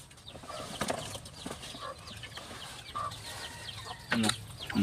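Chickens in a garden clucking in short, scattered bursts, fairly near, with a louder squawk near the end and some faint rustling between calls.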